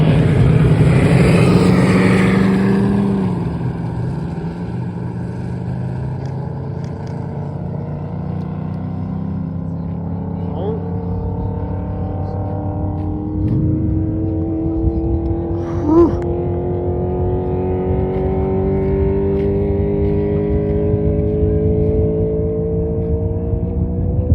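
A race car at Bonneville winds out off the rev limiter and pulls away: a loud engine roar, then a long rising series of gear pulls that gradually fade into the distance, with no talk.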